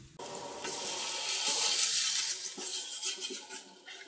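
Diced chicken breast stir-fries in a hot pan for a Korean gochujang instant-noodle dish, giving a steady loud sizzle broken by a few clinks and scrapes from stirring.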